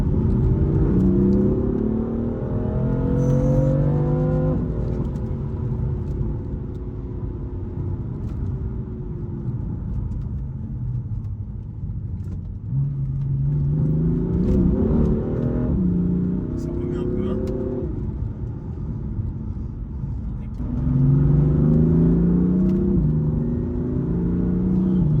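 A BMW M4 F82 with its S55 engine pulls hard in manual mode, the engine note rising loud and close through repeated climbs with sudden drops at each gear change, while someone talks over it.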